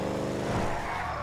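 Car driving and skidding in Grand Theft Auto 5, a steady engine drone with tyre scrub swelling briefly in the middle, loud and continuous with no talk.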